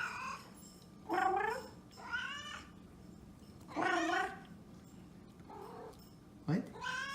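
A house cat meows five or six times in a row, close and clear, with fairly even gaps between the drawn-out calls and a quieter background.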